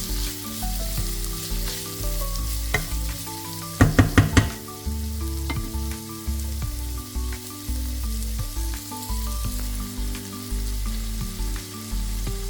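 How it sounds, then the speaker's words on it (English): One large onion browning in a pan for beef and potato curry, a continuous crackling sizzle close by, with a quick burst of sharp clinks partway through and a low hum underneath, no one talking. "So I'm going to brown the onion until it's nice and fragrant."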